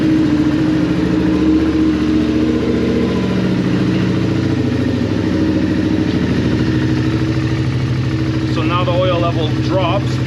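A Suzuki SV650 motorcycle engine, freshly filled with oil, runs steadily at a low, rumbling idle throughout, with some clattering toward the end and no talking.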